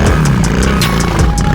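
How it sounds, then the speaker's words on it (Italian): Several motorcycle engines warming up at a muddy off-road rally event, a loud continuous rumble with revs rising and falling close by. "Alcuni scaldano i motori."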